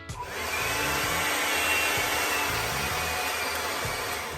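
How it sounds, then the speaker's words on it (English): A hair dryer runs on its highest heat and lowest airflow setting, a steady close whooshing roar that holds evenly from start to finish with no talk. "plug your hair dryer."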